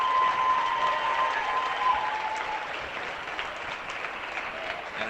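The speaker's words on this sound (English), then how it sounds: "an excellent ovation from the crowd" A crowd at a high school girls basketball game gives a sustained ovation, loud dense clapping that swells early and slowly tapers over several seconds, with a faint tone and voices underneath.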